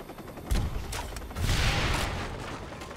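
Sniper rifle fire in the PC video game Watch Dogs, heard as a few sharp reports and booms over a dense, noisy game background.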